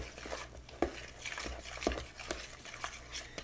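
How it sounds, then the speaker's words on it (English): Quiet, close stirring of a cheese and tomato mixture in a bowl, with soft scraping strokes and a couple of sharper utensil clicks against the side at an uneven pace. "let's go ahead and stir that up a little bit"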